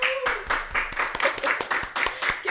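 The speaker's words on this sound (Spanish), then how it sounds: "Aplauso para la Faris." Hands clap in a steady quick rhythm, about three claps a second, close and clear, in applause for a guest during a live tech show assembling an e-sports PC.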